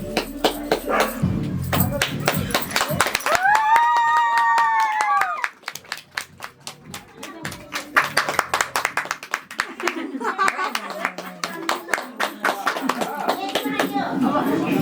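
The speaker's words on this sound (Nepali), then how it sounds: "ताली बजाओ ताली बजाओ" Guests at a Nepali wedding ceremony clap hands in quick, sharp bursts, close and loud, alongside singing and chatter, with a sustained sung note midway and the clapping resuming in a looser rhythm as voices continue.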